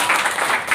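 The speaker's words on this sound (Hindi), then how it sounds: "ताली ठोक के जी।" Classroom students clapping together on cue, a dense, steady patter of many hands at close range for under a second, with no talking over it.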